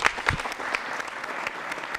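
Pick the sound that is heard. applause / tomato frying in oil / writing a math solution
applause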